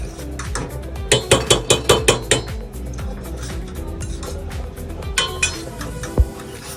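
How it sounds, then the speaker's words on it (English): A fork whisks eggs in a bowl by hand, giving a quick run of bright, rhythmic clinks against the bowl, a pause, then a few more scattered taps, heard close and alone. "when I'm done whisking the eggs"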